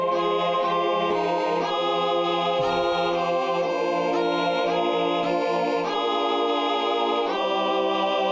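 Melody played back from a violin sample library, turned up slightly and a bit aggressive in tone, with sustained bowed notes changing every second or so in a continuous, loud phrase with no talking.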